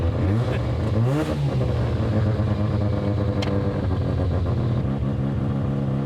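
A rebuilt Mazda RX-7 rotary engine runs loud and close with a steady buzzing drone, rising in a quick rev early on and then holding at a continuous high idle.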